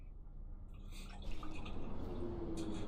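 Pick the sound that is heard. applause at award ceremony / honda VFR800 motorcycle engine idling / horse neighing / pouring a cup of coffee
pouring a cup of coffee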